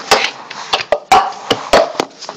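Plastic cups are tapped, slapped on a table and clapped in the cup song rhythm, a sharp pattern of percussive hits and claps, close and clear with short gaps between beats.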